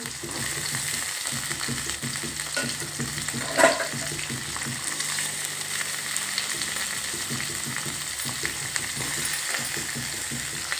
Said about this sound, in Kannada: ಹೆಚ್ಚಿಟ್ಟುಕೊಂಡಿರ್ತಕ್ಕಂಥ ಈರುಳ್ಳಿಯನ್ನು ಹಾಕೋಬೇಕು